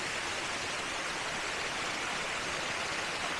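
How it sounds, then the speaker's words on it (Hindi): A spring and waterfall at Sumbal Lake flow without pause, a loud, dense rushing roar that stays even from start to finish with nothing else audible. "जैसे कि आपको आवाज़ आ रही होगी चश्मे की, झरने की आवाज़"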